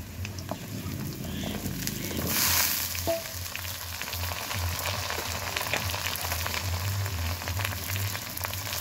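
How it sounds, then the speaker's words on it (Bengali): Eggplant and potato pieces sizzle together in hot oil in a pan, a close, continuous frying crackle with a brief louder hiss early on and a small clink of a utensil. "এখানে বেগুন আলু একসঙ্গে নিয়েছি, দিয়ে দিব তেলের উপরে"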